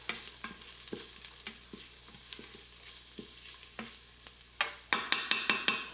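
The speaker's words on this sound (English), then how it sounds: "So I add it in there and I stir" A utensil stirs garlic sautéing in an Instant Pot, giving a rhythmic run of scrapes over a faint sizzle, with louder, quicker knocks toward the end.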